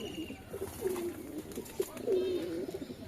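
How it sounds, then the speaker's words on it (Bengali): A young Madrasi pigeon coos close by in a few soft, low, throaty phrases, with faint background noise and no talking. "দেখো এই যে একটা চটিয়াল ম্যাড্রাসি বাচ্চা কবুতর"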